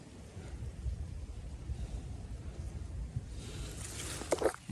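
Wind rushes across an open rice field in a steady low roar buffeting the microphone, with a few faint clicks and rustles near the end.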